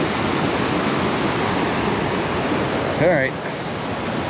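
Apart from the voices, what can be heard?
waterfall on Wonderland Trail, Mount Rainier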